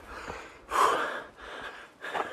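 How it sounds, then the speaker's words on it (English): A person gasping for air at high altitude in the Ecuadorian Andes, three heavy close breaths, the middle one loudest. "Tired of gasping for air."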